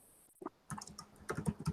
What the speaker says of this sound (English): I hear Elliot typing, so Elliot's doing that now.